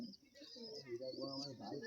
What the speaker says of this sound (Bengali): পায়রা দেখো পাকিস্তানি পায়রা আছে